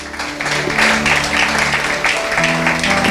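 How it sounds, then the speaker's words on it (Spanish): Church congregation clapping together, loud continuous applause filling the room with some background tones underneath. "Es un aplauso, démosle al Señor."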